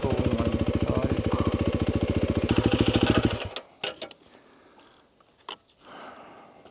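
Motorcycle engine running loud and steady with a fast pulsing rumble for about three and a half seconds as the rider turns the bike, then cutting off abruptly, leaving quiet outdoor background with a few brief clicks and rustles.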